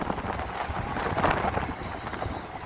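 Strong wind buffets the microphone in a continuous, rumbling roar with fluctuating gusts and no voices, on a street in downtown Chicago.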